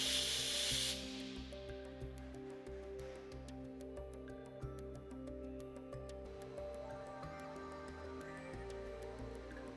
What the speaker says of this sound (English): Remove possible pollutants from the oxygen cylinder valve outlet by shortly opening and closing the valve.